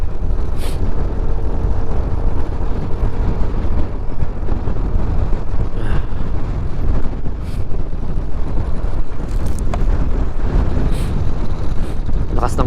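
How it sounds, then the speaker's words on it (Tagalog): Strong wind buffets the microphone during a motorcycle ride, a loud continuous low roar with gusty rumbling that covers everything for the whole stretch. "The wind is so strong."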